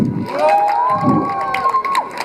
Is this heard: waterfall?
no